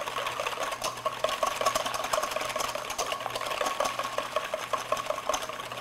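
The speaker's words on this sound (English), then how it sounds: "I'm just going to, with a wire whisk, just break them up" Eggs are beaten with a wire whisk in a bowl, giving a rapid, even clatter of wire against the bowl that runs steadily and fairly close throughout, with no talking.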